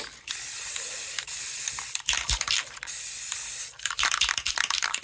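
Paint sprayer coating a gun in one color, several long steady hissing bursts close by, broken by short pauses and a rattling, crackly stretch near the end.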